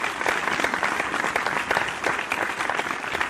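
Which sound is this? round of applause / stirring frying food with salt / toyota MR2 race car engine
round of applause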